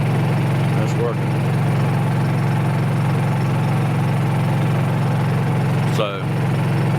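Honda EU3000is inverter generator running on eco throttle, a loud, steady, close hum that continues throughout, with brief voice-like sounds heard over it.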